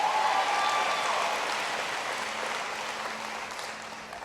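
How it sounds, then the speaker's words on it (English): An audience at a health reform town hall in North Carolina applauds the Speaker of the House, a dense clapping that starts loud and slowly fades over a few seconds, with no talk. "Give him a big round of applause."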